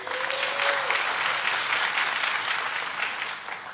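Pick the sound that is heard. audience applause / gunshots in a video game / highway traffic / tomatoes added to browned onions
audience applause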